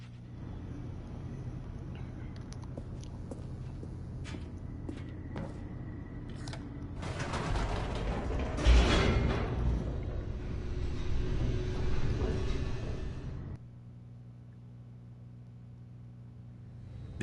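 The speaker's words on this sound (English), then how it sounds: "The elevator raced downward," Elevator in The Stanley Parable: Ultra Deluxe racing downward: a low steady hum swells into a rushing mechanical roar for several seconds, then cuts back to a quieter drone.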